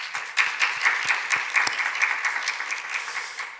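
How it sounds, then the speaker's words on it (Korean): A church congregation at a Sunday worship service claps together, a steady, dense patter of many hands that runs for a few seconds and fills the room at even strength. "박수 한번 해주시기 바랍니다"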